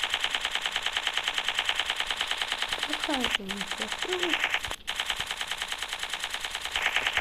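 Continuous rapid gunfire in a zombie video game, a dense mechanical rattle holding steady throughout, with a brief voice call and a sharp break midway.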